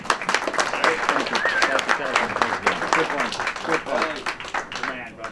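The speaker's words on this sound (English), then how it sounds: "Round of applause for Johnny." Applause for Johnny after a talk about a boat, dense steady clapping from a small crowd across the whole stretch, with scattered voices talking over it.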